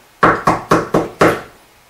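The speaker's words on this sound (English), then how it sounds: "So I took my hand and banged it on the wall" Five loud, evenly spaced knocks of a hand banging against a wall, each a sharp thud with a short decay, close up and without talk.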